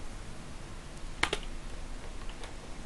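Brief quiet keystrokes tap on a computer keyboard as code is typed, a couple of close clicks in a short burst amid faint background hiss.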